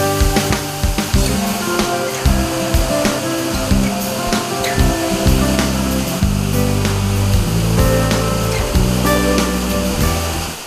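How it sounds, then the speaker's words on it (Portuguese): Waterfalls in Wanderlândia, Tocantins, give a constant rushing roar of falling water, loud and steady throughout. "São muitas cachoeiras ainda não exploradas, todas belas e serenas."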